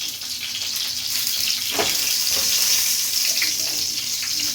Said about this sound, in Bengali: একটা বেগুন ছিল এরকম মতো সেটা হাফ করে বসিয়ে দিয়েছি ওই বেগুন ভাজা